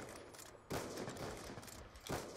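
Gunshots in a video game 1v1 match: a few loud, sharp blasts punctuate a dense, noisy background, each followed by a brief decay, with no talking.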